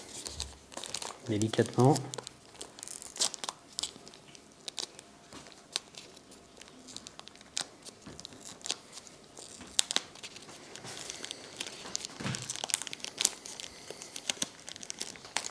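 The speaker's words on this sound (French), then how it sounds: "On va déballer la télécommande ici," Crinkly plastic and cardboard packaging around a DJI Mini 2 drone remote controller being unwrapped, with close rustling, crumpling and a few sharp tearing bursts, someone speaking French over it.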